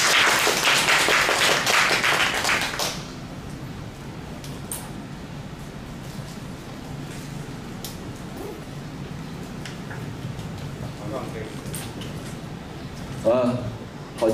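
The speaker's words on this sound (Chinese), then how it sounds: "那我们是不是就先热烈掌声欢迎这个石老师？" Warm audience applause welcoming Professor Shih Chih-yu at a winter camp lecture on international relations, a brief burst of clapping that fades after a few seconds into quiet room tone with faint movement.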